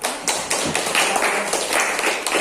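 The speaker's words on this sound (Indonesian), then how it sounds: "Beri tepuk tangan." Classroom audience applause rings out as dense, continuous clapping for a couple of seconds, loud and close.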